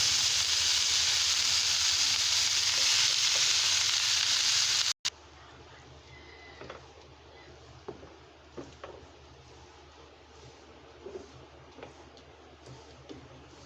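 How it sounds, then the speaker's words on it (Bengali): Red amaranth greens (lal shak) fry in a pan with a loud, dense hiss for the first half, then the sound drops abruptly to a quieter sizzle dotted with light crackles and ticks. "গাইস দেখুন, শাক ভাজি হচ্ছে"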